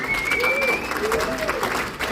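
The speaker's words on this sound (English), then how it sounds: "Keep your applause going" A comedy club audience applauds steadily for a comedian, the clapping continuous and fairly loud, while a voice carries over it with whoops or shouts.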